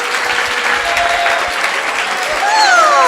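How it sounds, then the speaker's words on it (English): Loud, sustained crowd applause at a Vyasa Puja celebration, thick and continuous clapping close by, with a few whistles or tonal cries rising over it near the end. "we didn't get enough applause"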